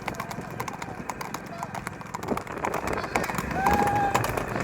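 Many horses gallop together on a long ride, their hooves drumming in rapid, overlapping clip-clop rhythms up close, while someone talks excitedly over them.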